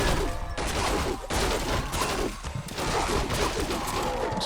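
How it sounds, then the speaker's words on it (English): Clockwork goblins exploding in a Warcraft 3 match, a dense, loud barrage of overlapping blasts and battle noise that continues throughout with brief dips between bursts. "And those clockwork goblins explode."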